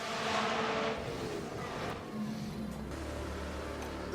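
Race cars in the F1 Manager 23 game at the Brazilian Grand Prix hold a steady engine drone with a pass around turn 5, medium-loud and continuous, partly layered under background commentary.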